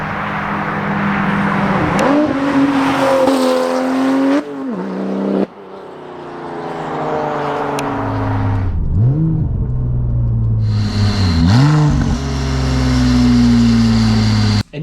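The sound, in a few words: Porsche 911 Turbo (996) straight pipe exhaust revving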